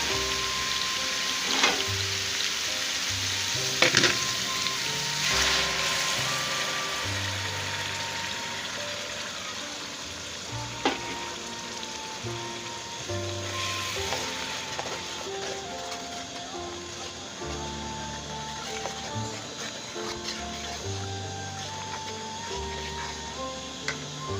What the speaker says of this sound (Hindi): अब मैं इसमें पेस्ट शामिल कर रही हूँ, टमाटर, हरी मिर्ची और प्याज का